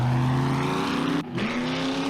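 A jeep's engine in the 7 Days to Die game revs hard and steady while driving slowly, a strained droning whine that briefly drops and then climbs back up.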